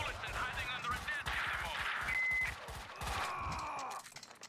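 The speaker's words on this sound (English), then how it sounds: "Someone must have heard the gunfire." Gunfire from the video game Max Payne 2 rattles in rapid bursts of sharp shots, loud and dense, with clanging impacts and other game effects mixed in.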